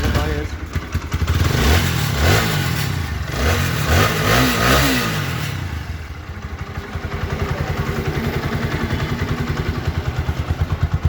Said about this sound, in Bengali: এবার আপনাদের একটু বাইকের সাউন্ডটা একটু দেখাই দিই।